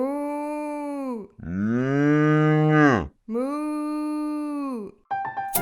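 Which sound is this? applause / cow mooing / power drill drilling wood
cow mooing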